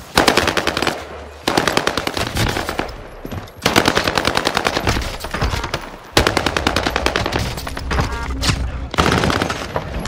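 Rapid automatic gunfire in Call of Duty on Rebirth Island, loud and close, coming in long sustained bursts separated by brief pauses.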